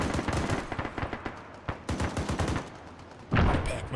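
Military video game combat fills with bursts of automatic gunfire and scattered single shots, loud and overlapping, with uneven pauses and a heavier blast near the end.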